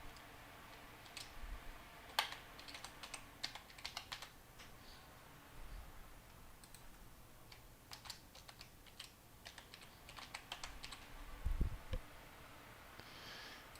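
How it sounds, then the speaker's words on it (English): A password being typed on a computer keyboard: irregular bursts of light key clicks, close but quiet, with short pauses between keystrokes and no talking. "I'm just going to type in my password."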